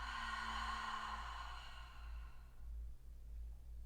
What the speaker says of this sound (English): Just let it go through a noisy exhale.